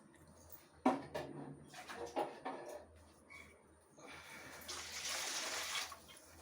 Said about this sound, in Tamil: இப்போ ஒரு வானலில் தண்ணி விட்டுக்கிறேன்